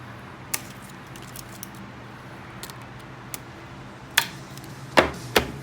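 A Uline S-107 strapping kit cutter snipping through tensioned strapping band on a bundle: a few sharp, close snapping clicks near the end over a quiet background with faint scattered ticks.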